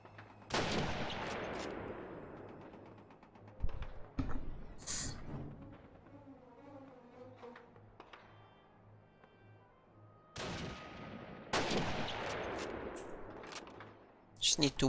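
Gunfire in the video game Call of Duty: loud, sharp cracking shots that come in bursts, with long rolling echoes, mixed with quieter stretches where a voice speaks, then heavy firing again near the end.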